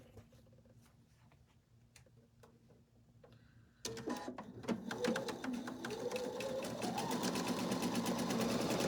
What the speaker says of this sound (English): I've got my sewing machine right here, so I'm just going to do a 1/4 inch seam